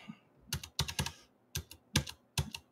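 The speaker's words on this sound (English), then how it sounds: "I can type." Typing on the computer keyboard of a new Windows 11 on ARM machine: close, crisp key clicks in short irregular bursts separated by brief pauses.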